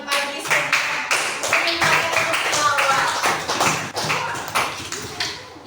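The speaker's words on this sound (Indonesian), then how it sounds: "Kasih aplaus yang pagi-pagi." A class claps in a quick scattered round of applause, close and fairly loud, with voices chattering under it.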